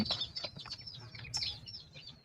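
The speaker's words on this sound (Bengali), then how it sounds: "এগুলো হলো চীনা হাঁসের বাচ্চা" Shrill peeping of one-day-old Chinese ducklings, rapid high chirps repeating close by over a faint low rumble.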